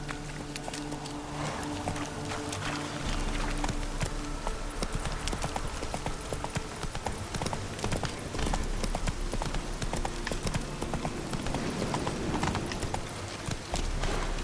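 A horse gallops in The Witcher 3: Wild Hunt, its hooves drumming in a fast, steady clip-clop rhythm close by, accompanied by a continuous game soundscape with a musical drone underneath.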